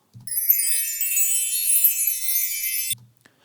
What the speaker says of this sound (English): Next I have the sound of some wind chimes.